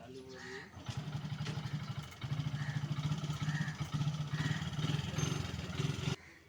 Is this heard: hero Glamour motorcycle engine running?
yes